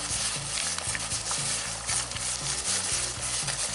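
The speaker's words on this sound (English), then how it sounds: "the pot's already starting to bubble, but we're going to call time at a rolling boil" A pot of water boils at a full rolling boil on a Concord single banjo burner, a close, steady, dense bubbling roar with a low burner rumble underneath.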